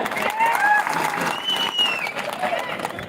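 Crowd applause at a farmers' protest rally, loud and steady clapping from a gathered audience lasting a few seconds, mixed with cheering voices and a ringing tone from the public address system.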